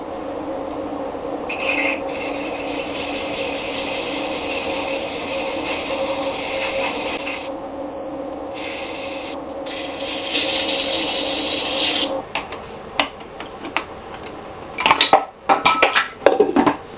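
Wooden yarn bowl being sanded after wood filler: a long steady abrasive rasp that pauses briefly, then gives way to scattered scraping and knocking rubs near the end, close and fairly loud.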